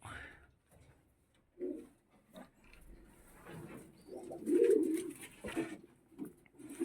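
Pigeons cooing in a coop, soft low murmuring calls that swell in a short cluster midway and recur faintly, with a few light rustles around them.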